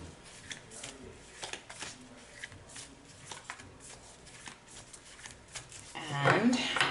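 A deck of oracle cards is shuffled by hand: a string of soft, irregular riffling clicks and flutters at close range, with a voice briefly rising at the end.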